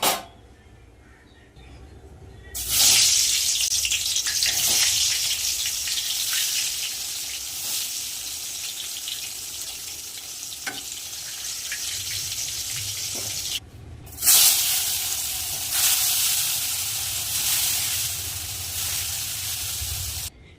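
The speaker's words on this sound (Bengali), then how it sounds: "বেগুন ভাজা কমপ্লিট" Eggplant fries in hot oil in a kadai with a loud, steady hiss. The sizzle swells after a quieter start, cuts off briefly partway through, then resumes just as strongly.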